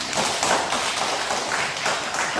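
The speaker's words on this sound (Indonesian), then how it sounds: "Tepuk tangan untuk kita semua." Children in a classroom clap together, a dense, steady patter of many small hands close by that runs without a break and with no talk over it.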